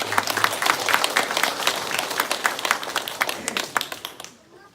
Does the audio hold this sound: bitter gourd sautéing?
no